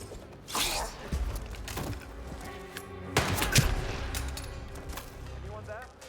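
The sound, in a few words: gunshots in the video game Hitman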